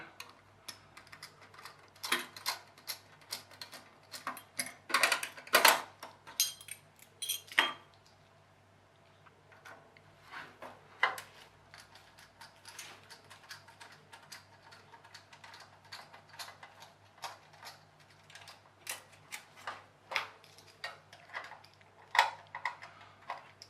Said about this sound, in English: I must say I'm a lot happier just undoing these Phillips screws.